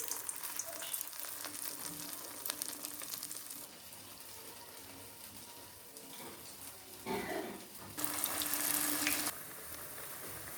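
Urad dal vadas fry in hot oil in a kadai, giving a soft, continuous sizzle and crackle that rises into a louder hiss near the end.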